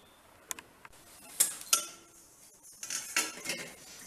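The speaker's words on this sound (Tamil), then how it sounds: "லோ ஃப்ளேம்லேயே வச்சு வதக்கிக்கோங்க" Neem flowers sautéing in a pan over a low flame, with faint sizzling and a few light clinks of a metal spoon against the pan, quiet and close with no talking.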